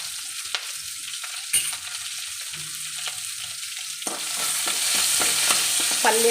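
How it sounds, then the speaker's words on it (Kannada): Onions, curry leaves and mustard seeds fry in a pan for tempering, a steady sizzle broken by stirring scrapes and pops that grows louder and busier partway through. "ಪಲ್ಯಗೆ ಒಗ್ಗರಣೆ ಮಾಡ್ಕೊತಾ ಇದ್ದೀನಿ."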